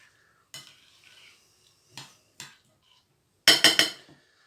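A homemade egg-food paste for goldfinches and canaries gets mixed in a bowl, with a few short, isolated scraping and clinking strokes, then a quick cluster of louder rapid stirs near the end, close and otherwise quiet.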